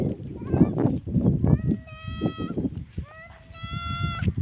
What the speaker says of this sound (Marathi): इकडे शेळ्या चरत आहेत